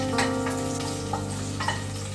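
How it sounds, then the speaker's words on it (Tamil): Crushed garlic hitting hot oil and ghee for masala pori, a steady close sizzle with light stirring scrapes and a couple of soft taps, alone with no speech over it. "எண்ணெய் காய்ஞ்சதும் முதல்ல இந்த பூண்டை நசுக்கி வச்சுருக்கோம்ல, அதை நல்லா வதக்கிடுவோம்"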